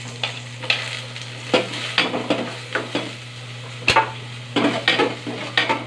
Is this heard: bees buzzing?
no